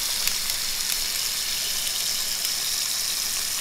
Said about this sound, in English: It's just a bowl filling up with water